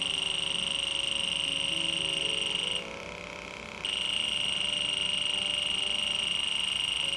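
Rapid electronic beeping from a Fieldpiece SRL2 infrared refrigerant leak detector alarm pulses steadily and loudly, cutting out for about a second before resuming at the same fast rate.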